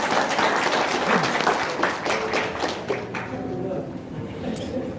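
An audience breaks into applause at a religious talk, a dense burst of clapping that thins and fades over a few seconds, with voices mixed in.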